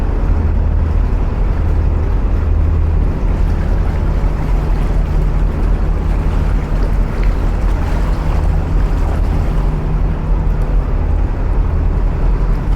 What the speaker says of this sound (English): That engine noise you can hear is the old boat behind us with a Lister engine or some type of engine.